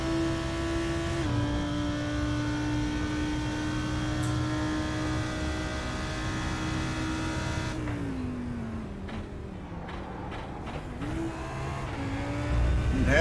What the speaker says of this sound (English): downshifting all the way down to second gear